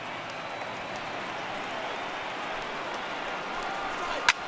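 A large stadium crowd roars and cheers steadily at an MLB The Show 18 baseball game, a broad continuous wash of noise with a sharp clap near the end.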